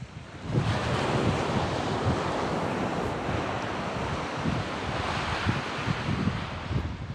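Strong wind buffets the microphone on a UK beach during cod sea fishing, a steady loud roar with surf washing underneath and gusty swells throughout, no voices.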